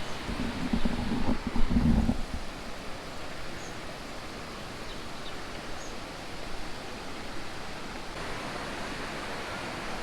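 Water at Aadyanpara waterfall in Malappuram pours over slippery rocks, a steady broadband roar that fills the whole clip at an even level, slightly louder in the opening two seconds.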